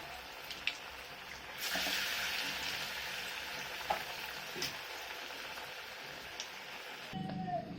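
Steady sizzling of bhola fish chops frying in hot oil, a broad crackling hiss throughout with a few sharper pops, close by and fairly loud.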